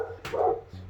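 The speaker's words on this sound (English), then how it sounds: "Sorry about my dog. She's barking at people outside." A dog barks at people outside, a single short, muffled bark heard indoors at a moderate distance over a low background hum.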